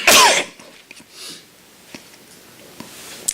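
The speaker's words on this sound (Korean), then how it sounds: "기침이 내게 어찌하리요" A preacher with the flu gives one loud, harsh cough at the start of a sermon, followed by quieter breaths, a throat noise and small clicks in a hushed room.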